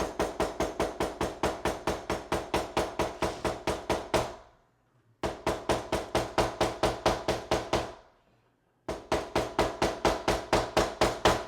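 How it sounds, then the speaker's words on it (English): A cobbler's hammer taps leather stitches flat in rapid, evenly spaced blows, three quick runs separated by brief pauses, close and crisp. "it allows you to just kind of hammer the stitches down so they are a little flatter"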